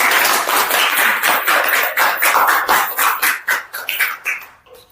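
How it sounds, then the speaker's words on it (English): A small crowd at a school farewell party claps for about five seconds, a dense round of hand claps that thins into scattered, separate claps toward the end. "Please clap."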